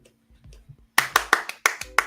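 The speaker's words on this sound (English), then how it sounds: "Stand up and applaud" A single pair of hands claps roughly seven times in an uneven rhythm, crisp and close, after a brief stretch of soft low sounds, during a casual hot tub livestream.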